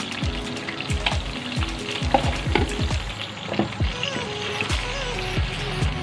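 Steady sizzling from a pan of tomato-onion paste with ginger-garlic paste, repeated scraping strokes of a spoon stirring the frying paste, close and busy.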